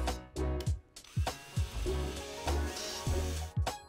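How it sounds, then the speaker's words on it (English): A power drill drives screws to install venetian blind brackets, a series of short close whirring bursts with brief pauses between them. "Install the brackets using the provided screws."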